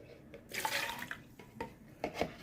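Short pour of liquid into a dish while making Greek roasted potatoes, a few close splashing bursts and drips, fairly faint, with no voices.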